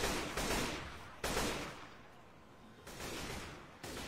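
Video game gunfire during a charity gaming stream, heard as several bursts of rapid shots separated by brief pauses, fairly quiet and without talk.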